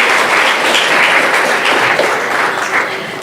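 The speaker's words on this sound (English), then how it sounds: "a big round of applause for them, please, first" A loud, dense round of applause fills the hall at a women authors award ceremony, sustained throughout and tapering slightly at the end.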